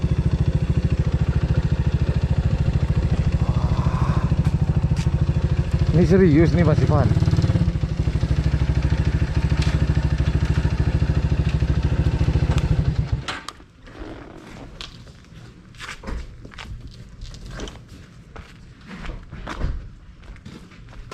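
A motorcycle engine rumbles loudly and steadily for about thirteen seconds before cutting off abruptly, leaving people talking excitedly against quieter background noise.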